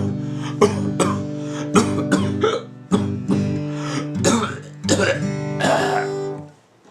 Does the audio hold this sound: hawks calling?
no